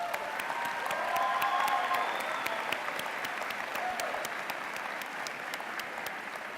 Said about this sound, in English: Graduates, let's give a big round of applause in appreciation for your family and friends